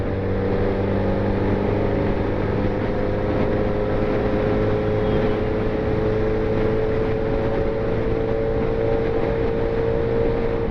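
Suzuki Hayabusa motorcycle cruising on an open road at around 90–100 km/h on a hot morning, a steady loud engine drone with constant wind rush, unbroken throughout and without talk.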